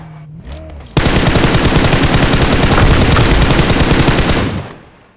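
Sustained automatic gunfire in PUBG Mobile rattles out as a loud, rapid, unbroken burst lasting about four seconds, then trails off into fading echo.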